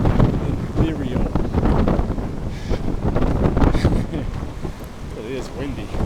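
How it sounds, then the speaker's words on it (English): Steady wind buffets and rumbles against the microphone for the whole stretch, loud and continuous, with faint voices mixed underneath. "It is windy."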